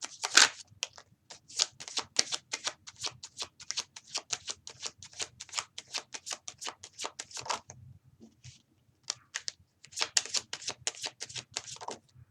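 Tarot cards are shuffled in quick bursts of crisp riffling and flicking, close and clear, with a short pause near the end before the shuffling resumes. No one talks.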